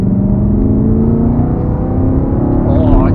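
A BMW M3 engine revs and rumbles steadily at close range, a deep throaty exhaust note that rises slightly toward the end.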